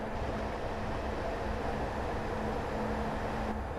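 A class 159 diesel multiple unit train in Train Sim Classic, giving a constant low engine drone and rolling rumble with a faint steady hum throughout, alone and with no speech over it.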